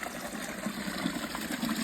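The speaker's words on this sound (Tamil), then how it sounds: "இங்கே பாருங்க எவ்வளோ தண்ணி ஊற்றுது தெரியுதா" Water gushing and pouring out at Valukuppari on a trek, a steady broadband rush that runs unbroken and fairly close, with no voices over it.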